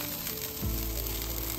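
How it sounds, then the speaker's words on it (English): Tuna steak dropped into a hot pan, a sudden loud sizzle bursting in partway through and holding steady as a bright, continuous hiss of searing. "so you can see just how easy it is to sear tuna."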